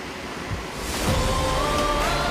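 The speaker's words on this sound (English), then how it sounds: "It is very windy today." Strong storm winds blowing outdoors in the Las Vegas Valley: a broad, steady roar of gusting air buffeting the microphone, building in strength partway through and staying loud.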